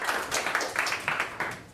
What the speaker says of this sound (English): you guys can clap for this